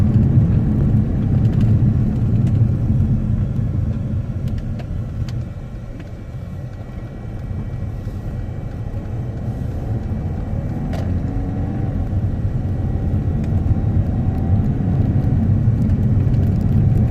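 A Mercedes CLA 220d in limp mode with an engine fault is driven along a main road, its low engine and road rumble steady and close from inside the cabin, swelling slightly midway.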